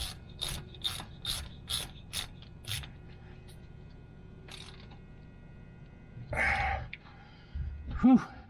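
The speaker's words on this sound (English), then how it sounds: "with the diff cover back on, we can go ahead and reinstall the drain plug" Ratchet tightening a drain plug on a Jeep JL Rubicon differential cover, a series of about eight sharp, evenly spaced clicks up close, followed by a couple of louder rasping handling noises.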